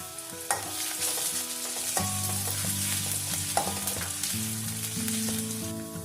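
Crushed garlic and a large piece of crushed ginger sautéing in hot oil for an onion-free egg curry, a dense close sizzle with spoon scrapes and light clinks against the pan, and a steady tonal hum underneath.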